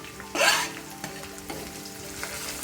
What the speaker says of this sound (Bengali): পেঁয়াজগুলো এরকম হালকা একটু ভাজা ভাজা হয়ে গেলে কুচিয়ে রাখা রসুন এবং আদা দিয়ে দিব